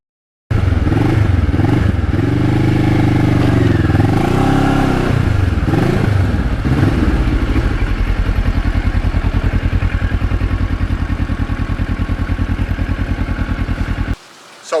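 A restored Kawasaki Ninja motorcycle engine starts up and runs loud and close, revving up and down over the first several seconds, then settling into a steady, rapid pulsing idle before cutting off abruptly near the end.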